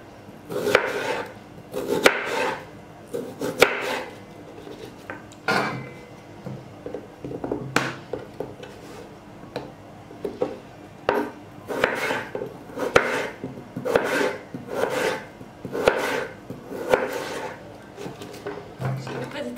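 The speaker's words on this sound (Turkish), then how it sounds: "Ve ince ince doğruyorum." Raw potatoes sliced thinly with a kitchen knife for crispy fries, a steady series of sharp close cuts against a board, irregular in rhythm, with brief pauses and light handling noise between slices.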